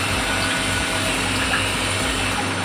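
Water poured into a pot of braised beef curry, a steady loud wash of liquid splashing and gushing throughout with a low rumble beneath, no talking.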